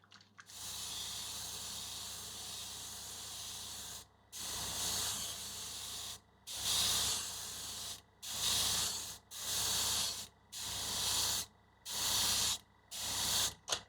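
Airbrush spraying a medium gloss black base layer onto a prop tablet, a steady close hiss in repeated bursts of about one to two seconds separated by short pauses.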